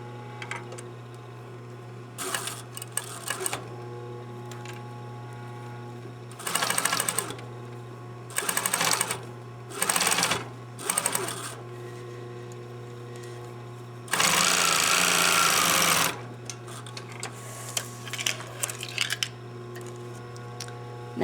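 A sewing machine stitches the corner of a mitered costume band in several short bursts of rapid stitching separated by pauses, with one longer run near the middle, close against a steady low hum.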